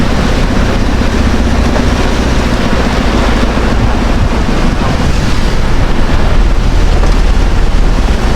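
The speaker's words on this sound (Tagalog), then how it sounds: "Bossing, ang lakas ng ulan. Buhos talaga." Heavy rain pours down outdoors in a downpour strong enough to threaten flooding, a loud, dense, unbroken roar with wind buffeting the microphone throughout.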